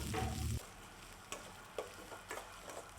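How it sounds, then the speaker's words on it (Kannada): Chopped onion fries in a coconut oil tempering with curry leaves, a short loud burst at the start followed by a quieter steady sizzle and a few light stirring taps, with no voices. "ನೆಕ್ಸ್ಟ್ ಇದಕ್ಕೆ ನಾನಿಲ್ಲಿ ಆನಿಯನ್ನ ಆ್ಯಡ್ ಮಾಡಿಕೊಂಡು ಚೆನ್ನಾಗಿ ಫ್ರೈ ಮಾಡ್ಕೊತಾ ಇದ್ದೀನಿ."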